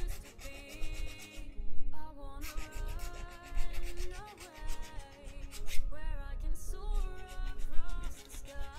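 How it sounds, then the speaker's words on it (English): Hand file rasping back and forth across the lip of a 3D printed plastic part for a RepRap printer build, close and steady in repeated strokes with brief pauses. "I'm just filing the lip"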